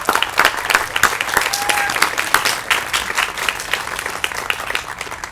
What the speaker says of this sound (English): So let's give all of them a quick round of applause